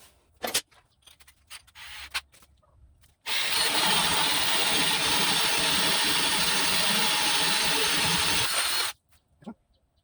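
A few light clicks and handling noises, then a power drill whirs loudly and steadily for several seconds while drilling a laminate butcher block workbench, before stopping abruptly.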